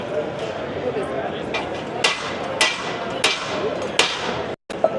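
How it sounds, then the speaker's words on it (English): A heavy-duty automotive-style sliding hammer demonstrated at the CONEXPO trade show, four or five sharp metallic strikes at roughly even intervals, loud and close, amid background show-floor chatter. "a super beefed up version of a sliding hammer that you'd probably use for automotive"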